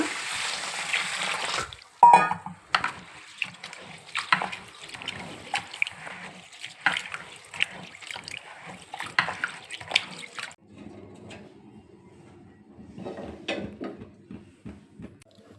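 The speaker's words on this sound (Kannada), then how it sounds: "ಇವಾಗ ಅಕ್ಕಿನ ಚೆನ್ನಾಗಿ ನೀರು ಹಾಕಿ ಒಂದು 2 ಸತಿ ತೊಳೆದಿಟ್ಕೊಳ್ಳೋಣ" Water runs and splashes in a vessel with repeated swishing and clattering as grains are rinsed, pausing and picking up again, with no talking.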